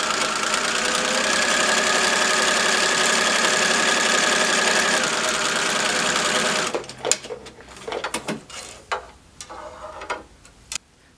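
A sewing machine stitches along glued-down fabric a quarter inch from the edge, running loud and steady for several seconds, then breaking into short, uneven bursts as it stops and starts.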